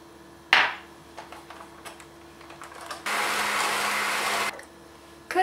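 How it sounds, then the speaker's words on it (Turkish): An electric hand mixer whisks butter, peanut butter and an egg for peanut butter cookies, a steady whirring drone that runs for about a second and a half after clattering kitchen handling noises, with no voices. "Tereyağı ile fıstık ezmesini yaklaşık 2-3 dakika çırptıktan sonra üzerine 1 adet yumurtayı ilave edip çırpmaya devam ediyorum"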